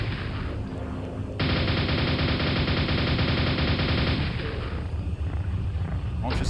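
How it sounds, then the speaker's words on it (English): Sustained, dense gunfire pounding a wall in the Quake mod Tremor, a loud continuous burst lasting about three seconds with scattered shots before and after. "I'll just shoot that wall until it bleeds to death."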